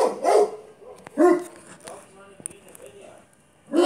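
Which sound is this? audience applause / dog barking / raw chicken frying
dog barking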